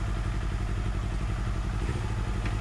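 A motorcycle idles or rides at low speed close by on a food-hunting ride in Temerloh, a steady mid-pitched engine chug with rapid clattering pulses throughout.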